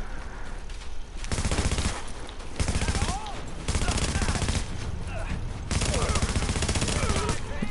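Dense automatic gunfire from a firefight in The Division, with sustained bursts of rapid shots in several loud waves separated by brief lulls.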